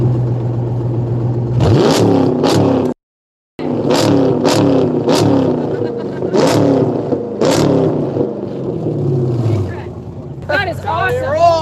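A car with a Flowmaster exhaust and an open exhaust cutout revs hard in repeated sharp bursts, loud and close, with a brief silent gap and voices reacting in between.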